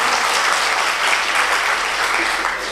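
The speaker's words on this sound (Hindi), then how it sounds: "देखो बात समझ में आ रही तो ताली बजाओ एक बार जोरदार।" A live comedy audience bursts into loud, dense clapping, a continuous wash of many hands held steadily at full strength from start to finish, with no voices on top.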